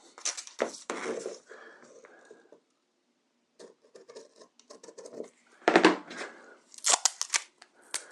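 Adhesive tape is pulled and pressed to close a dart on a paper sewing pattern for a contoured waistband, giving a few short, close rasping and crinkling bursts separated by quiet gaps.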